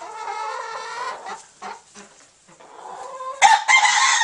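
Young barred rock and Australorp hens cluck and call up close in short bursts, with brief pauses between calls and a louder run of squawking near the end.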